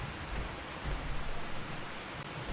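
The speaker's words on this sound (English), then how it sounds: "the sound of the rain is really, really loud" Heavy rain pours steadily in Fallout 4, a dense and loud hiss of drops filling the whole scene without pause, with no voices over it.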